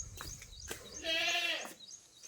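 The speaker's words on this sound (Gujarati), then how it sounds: "આ બાજુ જો આ એક બકરી છે" A goat in a rainy village bleats once, a clear wavering cry at middle distance, with faint background noise before and after.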